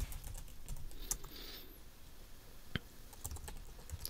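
Quiet keystrokes on a computer keyboard while typing a label into a spreadsheet text box, soft scattered clicks with one sharper tap near the middle, no talking.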